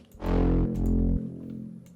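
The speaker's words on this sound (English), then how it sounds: "The first thing I added was this bass." A gritty, layered reese bass synth from a dance pop track plays one swelling, distorted note that holds for about a second and then fades, heard alone.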